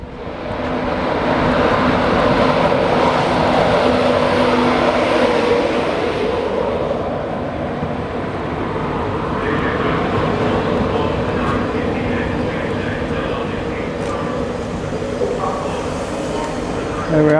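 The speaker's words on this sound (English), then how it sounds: "you've got your track machine" A railway track maintenance machine rolls past a station platform with a loud, steady mechanical drone that holds through the whole pass. Voices can be heard talking over it.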